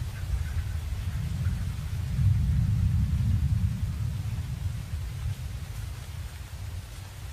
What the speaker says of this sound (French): souvent sous une pluie battante